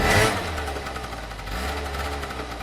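A vehicle engine idles and runs steadily at close range, a low rumbling drone that holds through with a slight surge near the start and midway, during a hurried getaway.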